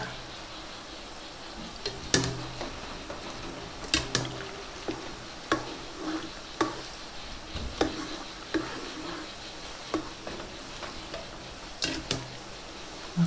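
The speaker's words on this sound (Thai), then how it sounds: "ทอดเยอะแน่นไปแป้งก็จะติดกัน คอยคนตลอดค่ะ" Quail egg snack dough balls frying in oil in a pan, a steady soft sizzle broken by regular scraping, clacking stirs every second or two, close and moderately loud, with no talking.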